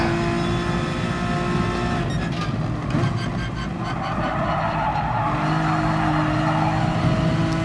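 A Gr.4 NSX race car drifts on all four wheels through a Brands Hatch corner in Gran Turismo Sport. Loud tire squeal and skidding rise over a steady engine drone, and no voices are heard.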